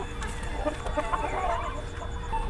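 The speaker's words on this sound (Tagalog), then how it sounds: "Ito po yung ating hinahanap, manok na sinyalado" A sinyalado chicken with five-toed feet clucks softly in short, scattered calls, fairly faint over steady low background noise with no talking.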